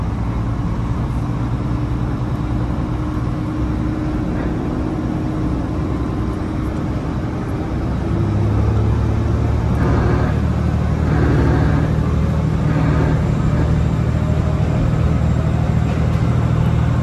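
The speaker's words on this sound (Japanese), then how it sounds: "このうなるようなモーター音がいいよね。" An electric train's motor hums and whines steadily over a constant rumble of running wheels as it departs Shimodate Station in Japan, growing louder and deeper partway through.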